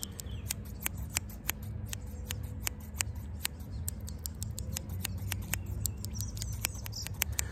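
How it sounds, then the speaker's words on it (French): Two pairs of scissors snip through hair at once during a finishing haircut, giving a close, crisp series of quick, uneven cuts over quiet background hiss. "Je vais prendre 2 ciseaux à la fois pour faire les finitions."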